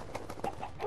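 A Minecraft chicken gives a few soft, short clucking calls in quick succession, faint and fairly close, with no talking over them.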